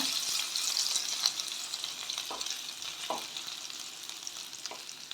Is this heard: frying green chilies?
yes